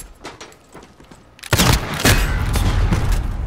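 Gunfire in the video game Call of Duty Modern Warfare: after quieter game ambience, a sudden loud shot cracks out, followed by a second burst and a sustained, dense roar of noise.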